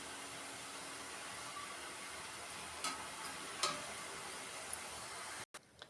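Dried bitter gourd slices fry in a pan for a spicy kakarakaya karam, a faint, steady sizzle with a few light ticks and clinks, ending in a brief cutoff.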